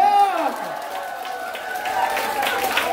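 An audience at a singing class led by a song instructor breaks into applause. The clapping is steady and moderately loud, running for a few seconds after a fading tone, with a voice faintly present.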